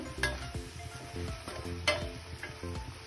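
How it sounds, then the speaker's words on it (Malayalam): Jackfruit seed stir-fry (chakkakuru mezhukkupuratti) sizzling in a pan, stirred by a spoon with a few soft scraping and knocking strokes over the steady frying hiss, close and moderately quiet, no talking. "ഇടയ്ക്ക് നമുക്കിതൊന്ന് ഇളക്കി കൊടുക്കാം"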